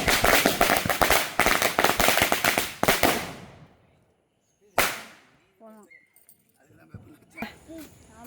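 A rapid string of loud Diwali firecracker bangs crackles for a few seconds, then a single sharp burst, followed by quiet voices.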